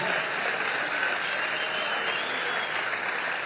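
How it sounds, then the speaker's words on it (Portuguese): A church congregation at a missions symposium applauds, dense continuous clapping from many hands at an even level throughout. "Palmas ao Senhor."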